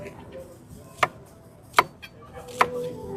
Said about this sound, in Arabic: ودلوقتي هنقطع الخضار بقى